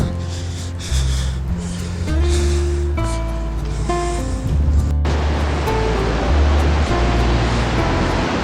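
A waterfall plunging from a great height near Yamunotri gives a steady, loud roar of rushing water that grows denser midway, heard under a layer of music.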